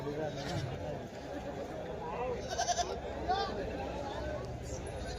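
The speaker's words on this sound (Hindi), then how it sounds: "ये सारी बकरियां हैं" Goats bleat at a Mewati goat lot in a busy livestock market, several short calls rising over a steady crowd hubbub with people chattering nearby.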